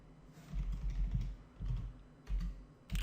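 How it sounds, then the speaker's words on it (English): Typing on a computer keyboard while entering form data, soft clustered key clicks in short bursts with brief pauses between, close and fairly quiet. "let's start and type Joe Smith"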